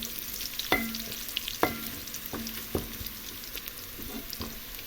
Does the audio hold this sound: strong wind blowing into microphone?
no